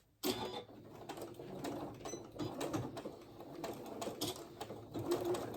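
Sewing machine stitching back and forth at the start of a seam on a McCall M8256 garment, a steady close mechanical whir and rattle that runs on without pause, quiet overall, with no voices.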